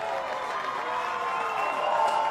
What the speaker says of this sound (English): The crowd really appreciates the effort.